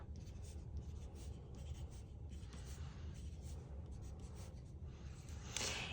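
A 3B pencil writes numbers on paper, with steady scratchy graphite strokes running continuously and close up, and no voices.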